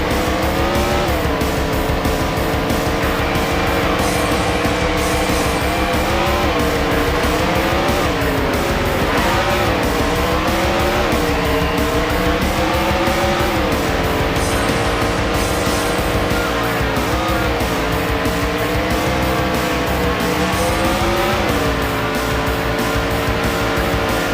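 Race cars in the Andretti Racing video game roaring together at a steady, loud pitch, engine tones rising and falling as they shift, with tire squeals mixed in throughout.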